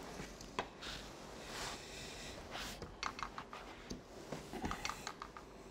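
Pen drawing lines on a board, a faint scratchy scraping in short irregular strokes with soft taps between them, heard alone.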